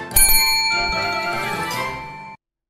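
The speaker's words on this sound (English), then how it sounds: "press the bell" A bright notification bell dings once near the start and its metallic ring sustains and slowly fades for a couple of seconds before cutting off abruptly, heard alone and clearly.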